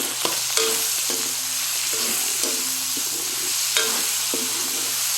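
Malunggay leaves are sautéed in a pan for bulanglang, a steady loud sizzle with repeated metallic stirring taps and scrapes, and no one speaking.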